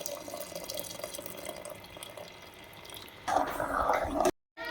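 Dissolved jaggery syrup is poured into cooked rice and dal for pongal. A faint trickle of liquid leads into a brief, louder splashing pour near the end.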